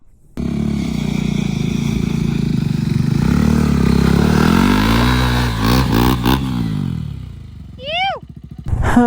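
A motorcycle draws near on a rural Telangana road after off-road riding, its engine rising steadily louder with a growing drone, then passing close before fading out. Speech is faintly present at times.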